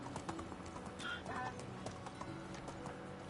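Donkey hooves clopping along a road in Medieval Dynasty, a quiet steady walking rhythm of soft hoof strikes with faint ambient background and a brief animal call.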